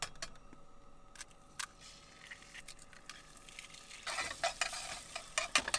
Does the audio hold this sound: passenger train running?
no